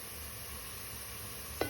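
Browned onions and a cinnamon stick sizzling in hot oil, a steady, moderate hiss throughout with a brief clink near the end.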